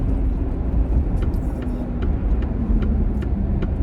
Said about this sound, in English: Definitely hear that exhaust leak.